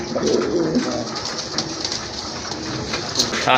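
Fancy pigeons, including a Madrasi golla, coo together in a dense, continuous murmur from a crowded flock close by.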